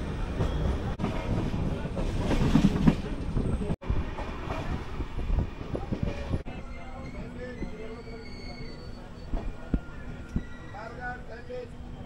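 Steady rumble and rattle of the 22898 Kandari Express moving along the tracks at night from Digha to Howrah, with talk over it in the first half and clicks and squeaks later.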